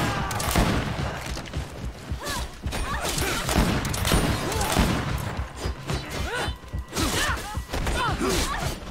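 Gunfire in the game GreedFall, a series of sharp shots and impacts spread through a busy combat scene, mixed with clashing, grunts and character chatter.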